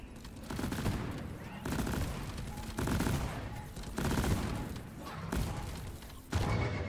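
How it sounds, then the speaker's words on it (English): Explosive chemical rounds fire in Deep Rock Galactic in dense, rapid bursts with heavy thumping impacts, loud and close, and a voice talks partly over them. "I just love explosive chemical rounds."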